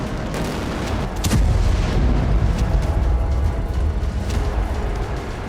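Tactical atomic bomb test explosion, a continuous loud rumbling roar with a heavier boom surge after about a second that stays dense and sustained to the end, with no talk.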